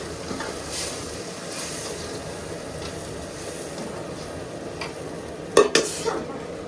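Country chicken curry being stirred and sautéed in a pan, with a steady soft sizzle and scraping throughout and a few sharper clinks of the spoon against the pan near the end.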